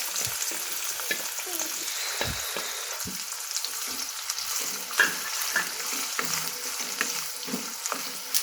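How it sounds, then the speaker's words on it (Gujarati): Finely chopped onion fries with whole spices (cloves, bay leaf, ajwain, cumin) in a pan, a constant close sizzle broken by scraping stirs and a few sharper pops, with no voices. "આપણે ઝીણી સમારેલી ડુંગળી એડ કરી દઈશું."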